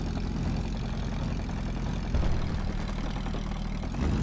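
A steady, loud engine drone fills the scene as a helicopter comes in to land nearby in a video game, a continuous low rotor-and-engine hum with small swells and no talk.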